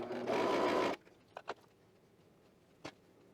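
A sewing machine runs in one short, steady burst while stitching very stretchy fabric slowly, then stops, followed by a few soft clicks and handling taps in a quiet room.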